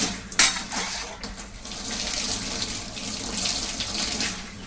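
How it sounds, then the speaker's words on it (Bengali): A tap runs steadily while utensils for a puja are washed beneath it, a continuous close splash of water with a brief metallic clink near the start. "ঠাকুরের বাসন মাজা হয়ে গেছে।"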